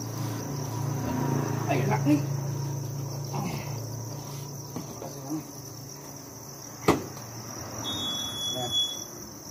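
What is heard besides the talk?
crickets chirping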